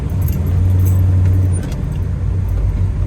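A 1970 Chevrolet Chevelle SS 454 with its big-block V8 rumbling at a steady idle, a loud continuous low drone that eases slightly partway through, with no talking.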